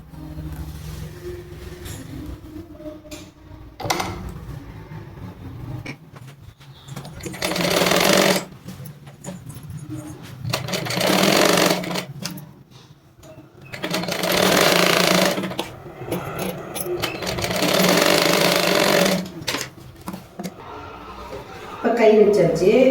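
A sewing machine stitches a blouse in a tailoring class, its rapid mechanical chatter running in several long bursts, while someone talks steadily over and between them.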